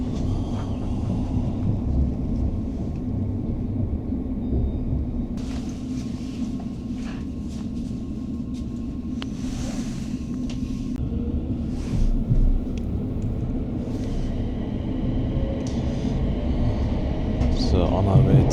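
Train on the Gourock railway line in Scotland rumbling steadily along the track, a low continuous roar with faint squeaks and clatter, heard from inside the carriage.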